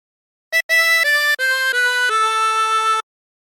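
A chromatic harmonica plays a single Wellerman phrase of about six clean, sustained notes that step downward, ending on a longer held tone, close and alone in silence.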